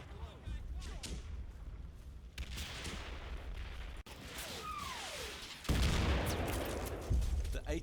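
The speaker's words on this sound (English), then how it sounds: "both the medium machine guns are firing into these 2 positions" Two medium machine guns firing on positions in the Combat Mission Fortress Italy battlefield, bursts of distant rattling fire and sharp cracks over a rumbling low background, with a heavier blast-like surge late on.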